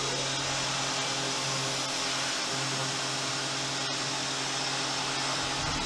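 A 1/8 corner radius stub-length milling cutter with Alton coating runs with a loud, steady whirring hiss of spindle and coolant air, broadband and unbroken throughout, with no voices.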